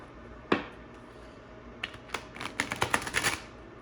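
A tarot card deck is shuffled: one sharp snap first, then a quick run of crisp clicking riffles, close and fairly quiet.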